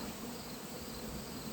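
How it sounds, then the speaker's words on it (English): Bees droning softly around a small, growing backyard hive during September chores, a faint, steady insect hum that holds evenly throughout. "so there's some bees there"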